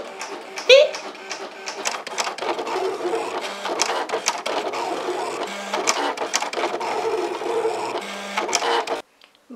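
A Silhouette cutting machine cutting paper gives off a steady mechanical whirring with rapid clicking and short motor whines, while people talk over it.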